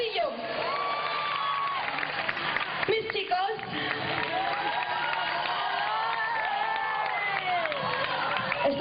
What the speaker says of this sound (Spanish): Un fortísimo aplauso para Griselda Astudillo.